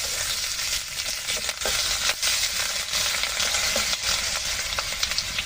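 Potato and crab fry in a pan with garlic paste, making a loud, continuous close-up sizzle broken by stirring scrapes and occasional soft knocks, with no voices.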